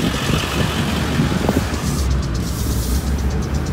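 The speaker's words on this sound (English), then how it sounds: "The party bus there." A party bus drives past outdoors near Deep Lake, its engine rumbling as a steady, fairly loud road roar that fills the whole stretch.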